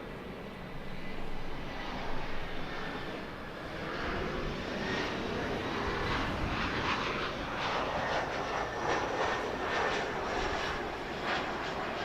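A Delta airliner lands on runway 24 right at LAX, its engines giving a steady, loud broadband roar that swells slightly toward the end and carries without a break for the full stretch, with no talk over it.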